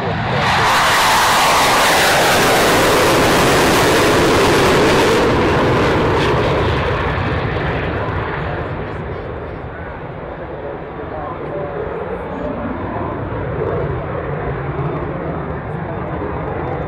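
A loud, roaring Saab Draken jet engine that swells during takeoff at an RAF Mildenhall air display and then slowly recedes into a distant rumble, with voices faintly underneath.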